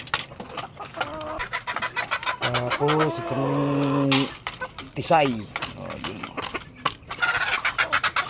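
Chickens clucking and calling nearby, with a drawn-out squawk in the middle, while a person talks over them.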